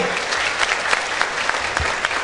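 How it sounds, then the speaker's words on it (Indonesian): An audience at an evening dharma talk in Palembang claps for the speaker, a short burst of steady, fairly loud applause from many hands with no one talking. "kita beri tepuk tangan yang meriah sekali untuk pembicara kita pada malam hari ini"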